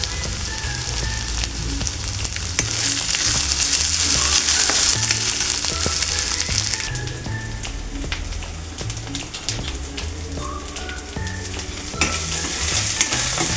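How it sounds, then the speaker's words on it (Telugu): Ginger garlic paste fries in a pan for a curry, giving a continuous crackling sizzle, fairly loud and steady, with occasional stirring scrapes and no talking. "అల్లం వెల్లుల్లి పేస్ట్ పచ్చివాసన రాకుండా వేయించుకోవాలండి బాగా."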